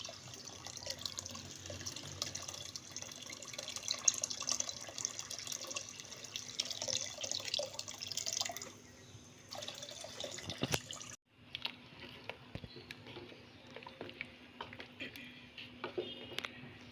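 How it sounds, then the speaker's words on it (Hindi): Water runs steadily into a cooking pot of besan mixture for kadhi, a close splashing stream that cuts out briefly and resumes, with faint kitchen noise and no clear talk. "अब हम इसमें पानी ऐड करेंगे"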